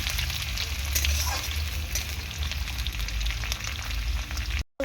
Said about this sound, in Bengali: আলুটা সেরকমভাবে একটু ভেজে নেব, একটু লালচে লালচে করে আলুটাকে ভেজে নেব।